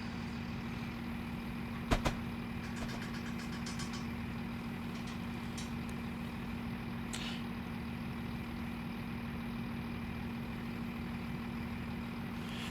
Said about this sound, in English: Look, I've even started braking too soon.